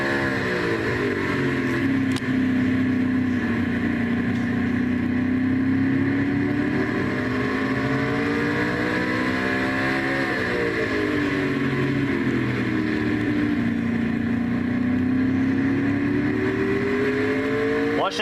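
Red Bull Toyota race truck lapping Martinsville, its engine screaming near 10,000 RPM down the straights then dropping toward 5,400 through the turns, a loud, continuous in-car roar rising and falling in pitch across the lap.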